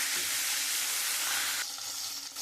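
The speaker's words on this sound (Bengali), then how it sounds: "এবার মাছটা আমি লাল লাল করে ভেজে নেব" Tilapia pieces sizzle loudly in hot oil, a continuous bright frying hiss up close that eases slightly in the last second.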